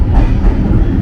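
Electric commuter train in Kyiv rattling loudly, heard from inside the vestibule: a dense, constant low rumble and clatter filling the whole second.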